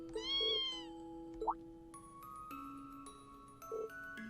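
A kitten meows in the video game Trails of Cold Steel, two short meows close and clear over a soft game soundscape with chiming tones and a rising blip between them.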